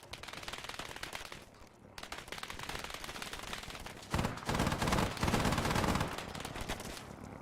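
Sustained machine gun fire from a helicopter door gunner in the Arma 3 video game, rattling in long continuous bursts with brief pauses, loud and close, growing heavier midway with no speech.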